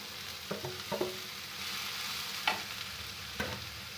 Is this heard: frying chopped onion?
yes